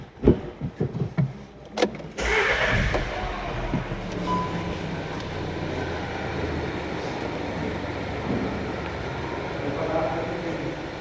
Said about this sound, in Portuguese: Vou dar partida no carro, não vou nem ligar a chave, vou dar partida no carro